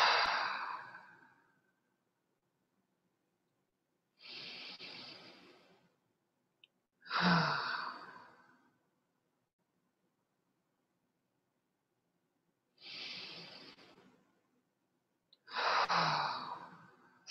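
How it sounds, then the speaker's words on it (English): Slow, deep breaths drawn in through the nose and let out through the mouth during a guided prayer, five soft breath sounds spaced several seconds apart with quiet gaps between, close and alone. "take a few deeper breaths, maybe breathing in through the nose and out through the mouth"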